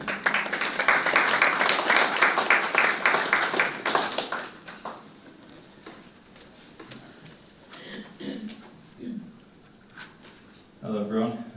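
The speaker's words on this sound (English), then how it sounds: "It deserves a round of applause." Applause from mourners at a funeral service, several seconds of steady clapping that fades out, followed by quiet room sound and a voice beginning to speak.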